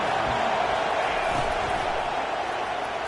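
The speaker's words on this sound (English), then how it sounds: "listen to the roar of this crowd" A stadium crowd in a football video game gives off a steady, dense roar that stays level and constant throughout, with no clear peaks.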